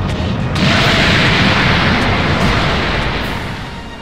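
Explosions tear down a tower in the Minecraft Dragon Block C mod, a loud continuous roaring blast that swells after a brief quieter start and slowly fades near the end.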